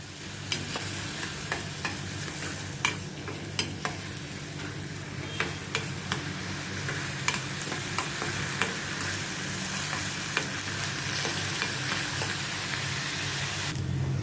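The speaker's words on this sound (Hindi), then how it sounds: "इसको मैं थोड़ा सौते करती हूँ जैसे इसका कच्चापन निकल जाए और थोड़ा कलर इसका थोड़ा ब्राउनिश हो जाए" Finely chopped onions sautéing in a pan give a steady, close sizzle, broken by sharp clicks of a spoon stirring against the pan.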